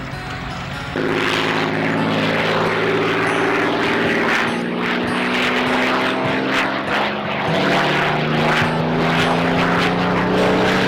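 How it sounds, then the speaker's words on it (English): Propeller aircraft practicing gunnery and bomb drops drone loudly overhead in a continuous, throbbing roar, with engine pitch shifting slightly as the planes pass. "For hours, planes practiced their gunnery and bomb drops on the target"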